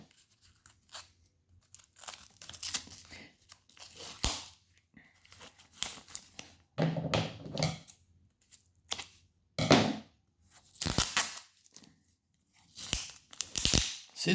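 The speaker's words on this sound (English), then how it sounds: "Scissors actually do work better when you're unpackaging things" Intermittent bursts of scissors cutting and tearing at plastic packaging, crinkly and close, with pauses between strokes.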